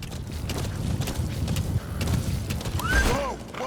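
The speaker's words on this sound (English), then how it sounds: "X to speed up horse." A horse gallops with rapid hoofbeats in the Metal Gear Solid V video game, close and continuous, with a whinny near the end.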